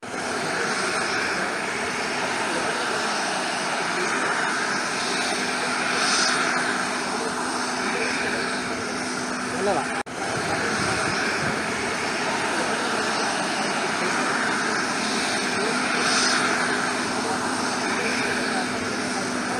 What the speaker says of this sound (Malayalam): Kalpetta S K M J school ഗ്രൗണ്ടിലാണ് helicopter ഇറങ്ങിയത്